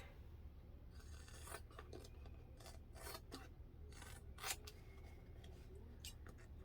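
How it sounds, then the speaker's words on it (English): Scissors snip repeatedly through fabric to trim a seam allowance on a crossbody bag, a series of soft close cuts over quiet room noise. "we're going to trim the seam allowance down on both sides"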